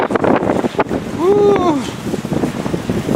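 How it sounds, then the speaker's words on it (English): Wind buffets an outdoor microphone on a walk through Amsterdam North, a steady low rumble with gusty swells throughout, and a brief gliding tone rising and falling midway. "It's a little windy."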